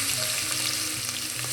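Green chillies with crushed ginger and garlic sizzle steadily in hot oil as they are stirred in a pan for a vegetable pulao, a dense, continuous frying hiss up close with no talk.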